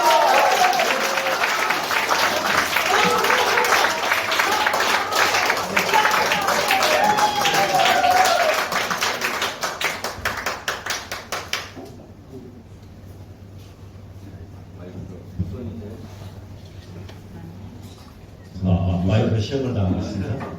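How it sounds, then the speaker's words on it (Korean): An audience applauds in a meeting room at a Democratic Party members' gathering in Gyeongbuk, a dense, steady burst of clapping that cuts off abruptly midway, followed by quieter room sound and a brief swell at the end. "큰 박수 부탁드립니다."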